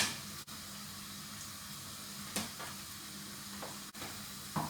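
Onion sizzling in a pan for a gratinated salt cod and pasta dish, a steady low crackle running throughout with a few brief clinks and stirring sounds over it.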